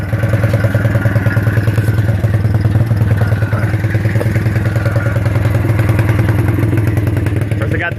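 A Suzuki LT 125 ATV, recently fitted with a new fuel pump, putters along around a yard with a steady, rapid single-cylinder thump and clattering mechanical noise, close and continuous.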